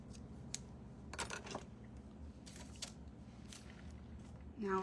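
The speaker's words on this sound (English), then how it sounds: "Scissors." A handful of quick, crisp scissor snips close by, spaced irregularly over a quiet background.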